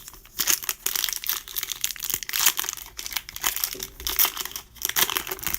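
Foil wrapper of a baseball card pack crinkling and tearing open, close and fairly loud, in repeated bursts of crackly rustling with no talk.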